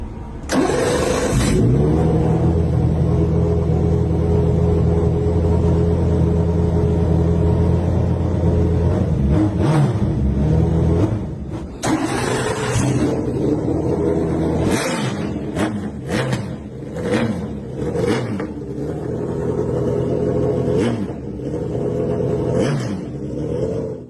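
BMW M3 GTR race car engine cranking and firing up, then held at a loud steady idle before a series of sharp blips and revs in the second half, very close and dominant, with no talking.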